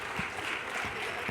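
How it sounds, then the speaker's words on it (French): An audience at the Educatec/Educatice 2019 project presentations applauds steadily, a dense, even wash of many hands clapping at moderate distance with no letup. "Et encore merci de les applaudir quand même"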